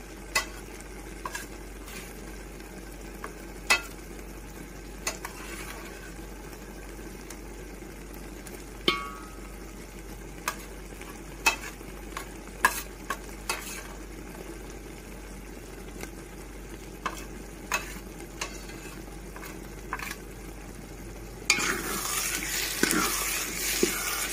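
Coriander, cumin and black pepper paste stirred and fried in a pan for mutton curry, with steady low sizzling and scattered clinks of a spoon against the vessel throughout, louder near the end.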